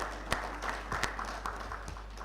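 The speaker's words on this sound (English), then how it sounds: "I know you will give her a round of applause" An audience at a fellows' induction ceremony and public lecture applauds, with scattered, fairly faint claps over a low steady hum in a large hall.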